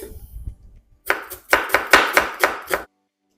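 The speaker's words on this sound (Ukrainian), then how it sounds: "Цибулю я зараз наріжу і замариную." A knife chops an onion rapidly on a cutting board, about seven crisp strikes in a quick steady rhythm, close up, after a few softer taps.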